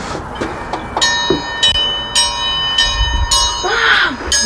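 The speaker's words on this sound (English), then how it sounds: "It's the dinner bell." A dinner bell rings out at a rural homestead, several struck peals with long ringing overtones spread across the clip, fairly near and loud over outdoor background noise.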